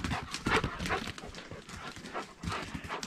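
Two dogs approach at night near a 1973 GMC C2500 pickup truck, their paws and panting making close, irregular shuffling sounds throughout.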